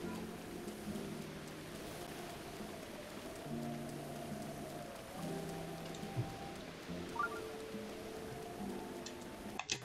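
Soft, steady rain falls in the Breath of the Wild video game in the Faron region, a faint continuous patter beneath quiet sustained game music tones.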